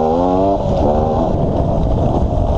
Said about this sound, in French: on va mettre un peu de gaz là